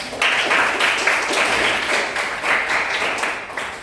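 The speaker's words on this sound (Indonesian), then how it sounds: "beri tepuk tangan untuk" A classroom full of people claps in a burst of applause, dense and fairly loud, lasting a few seconds.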